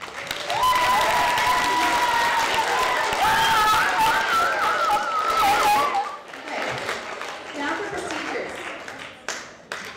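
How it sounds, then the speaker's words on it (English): A school audience at an engineering challenge awards ceremony gives everyone a huge round of applause, loud clapping that fills the first six seconds and then thins out, with talk and cheering mixed in. "So really a huge round of applause for everybody first"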